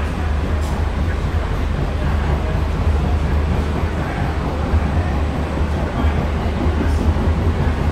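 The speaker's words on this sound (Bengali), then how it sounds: "এই যে ট্রেন ছাড়ার সঙ্গে সঙ্গে ইনস্ট্যান্ট যে পিক আপটা" A Sealdah–Ranaghat air-conditioned local train with twelve ICF coaches picks up speed, a loud, steady, deep rumble and rush of rolling stock that holds constant throughout.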